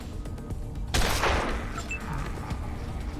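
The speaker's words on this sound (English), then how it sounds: "Okay, shoot you with my handgun." Gunfire in the PC game Wasteland 2, a sudden loud burst of shots followed by a decaying rumble over a busy game soundscape.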